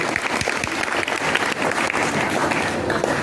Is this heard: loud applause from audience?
yes